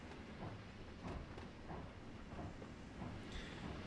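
A train in Trainz Simulator 3 (SAR Petersborough) runs along with a quiet, continuous rumble and hiss, with occasional soft clicks and clanks over the track and no voices.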